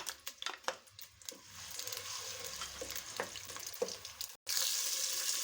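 Ground onion sizzles and fries in hot cooking oil in a pan, a steady crackling hiss that rises briefly near the start, then sizzles on alone with no talk, a short cut near the end.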